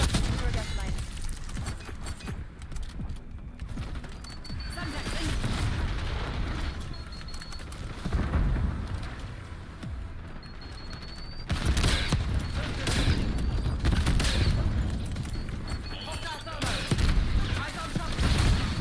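Thermite grenades going off in a Call of Duty match: repeated bursts and crackling booms over steady game noise, with several louder surges later on, under people talking and reacting.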